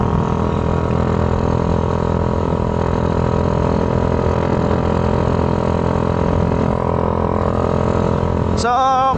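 A Honda Wave 100 motorcycle engine in a sleeper build idles steadily and close by for several seconds, with a brief high whine near the end and people talking over it.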